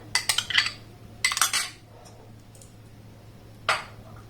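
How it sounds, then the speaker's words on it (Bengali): A spoon clinks and scrapes against a metal pot while rice and blended milk, made with Gobindobhog rice for a mango phirni, are stirred, in a few quick bursts of clatter separated by quiet. "দুধটা দেওয়ার পর এটাকে আমি আর একবার একটু ভালোভাবে নাড়াচাড়া করে নেব"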